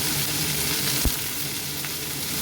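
Cut onions and potatoes fry together in a hot pan with a steady, dense sizzle, close and loud throughout, with one brief knock partway through.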